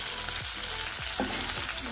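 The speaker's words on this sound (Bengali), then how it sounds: "খুব বেশি কড়া করে আমি ভাজবো না হালকা করে আমি ভেজে তুলে নেবো" Amudi fish lightly fry in oil in a pan, a dense continuous close sizzle and crackle with faint scraping touches and no talk.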